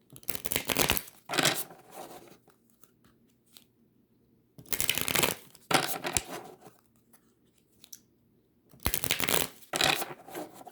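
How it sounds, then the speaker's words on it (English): Three separate bursts of a deck of tarot cards being shuffled, each a quick riffling rattle, with quiet pauses in between. "Let's shuffle just a couple more times on camera."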